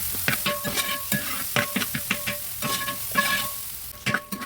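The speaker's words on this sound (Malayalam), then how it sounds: "കരിയാതെ ഇളക്കിക്കൊണ്ടിരിക്കണം" Crushed garlic and ginger fry in a pan for a Kerala-style bitter gourd pickle, with repeated sharp spoon scrapes and taps over a steady close sizzle.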